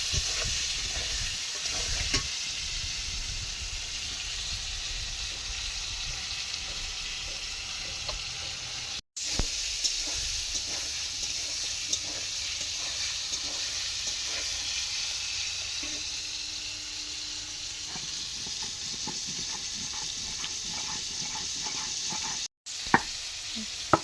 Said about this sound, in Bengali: পটলগুলো একটু ভাজা ভাজা হয়ে গেলে আর আলুগুলো দিয়ে দেবো